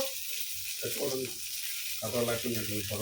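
Fish frying in a frying pan, a steady hiss and sizzle running through the whole stretch while a voice talks over it in two bursts.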